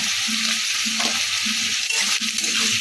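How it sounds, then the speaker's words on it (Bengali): Cauliflower stirred in tomato sauce over high heat for Bengali chilli cauliflower: a steady close sizzle with repeated scraping stir strokes and a soft clink or two, no voices. "হাই হিটে ভালো করে নাড়াচাড়া করছি আমি"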